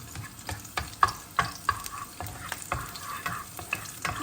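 Three or four garlic cloves sautéing in a pot for an eggplant dish, a steady close sizzle broken by sharp scraping stirs and clicks of a spoon against the pot, with no talk.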